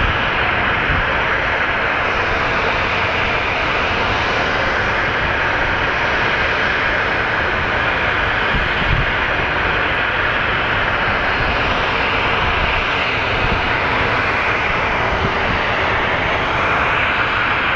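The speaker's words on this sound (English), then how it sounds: "we're gonna catch our Horizon Air Embraer, followed by a Southwest Airlines" Horizon Air Embraer and Southwest Airlines Boeing 737 jets at Phoenix Sky Harbor airport make a loud, steady engine roar that holds for the whole stretch without any talk.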